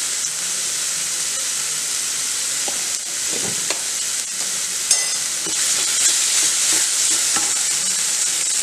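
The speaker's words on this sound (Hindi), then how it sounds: "ये मसाला हमारा ब्राउन हो रहा है" Masala and mixed vegetables frying in a pan with a loud, continuous sizzle and hiss, broken by occasional scraping and clinking from a spoon stirring them close up.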